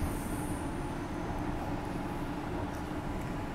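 An express replacement train service pulls into a station, a low, continuous rumble and rolling rail noise holding steady throughout with faint higher squeals, heard at a moderate distance without talk.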